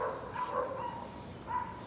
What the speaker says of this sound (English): Dogs, gotta love them.